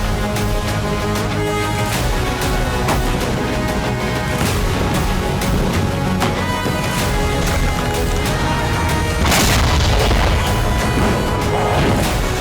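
A Russian strike hits a Ukrainian training camp in Kirovohrad: loud, dense explosions with repeated booms, crashes and sharp cracks, one blast after another, with a heavier burst near the end.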